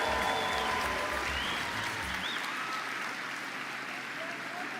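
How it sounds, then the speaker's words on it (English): Applause for graduates at a CEMS graduation ceremony in 2025, a dense, steady wash of clapping from a large audience that holds loud throughout and eases slightly toward the end. "Can we give a round of applause to all the graduates of the CEMS Graduation 2025?"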